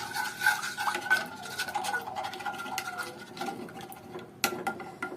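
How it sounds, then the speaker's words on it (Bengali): Gelatin powder is stirred into a pomegranate mixture, making a steady close scraping and swishing with light clinks throughout and a few sharper knocks near the end. "এটার সাথে খুব ভালো মতো মিশিয়ে নিতে হবে"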